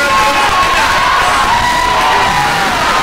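Crowd cheering and shouting at a women's college basketball tournament quarterfinal game in an indoor gym, a dense, steady roar of voices with whoops and high calls throughout.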